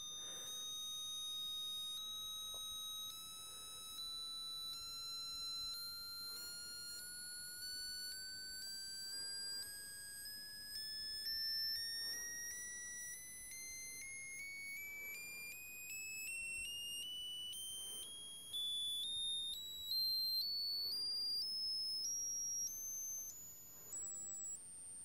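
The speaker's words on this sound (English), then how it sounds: "If you hit the center, it'll stop the beeping." A Tissot T-Touch Expert Solar watch's piezo speaker gives a continuous high electronic tone that sweeps slowly upward in pitch, with faint periodic clicks underneath, thin and steady throughout.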